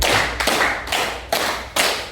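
Hands clap together in a steady count of five loud, close, sharp claps about half a second apart, with no talking. A classroom-style clapping game led by a teacher.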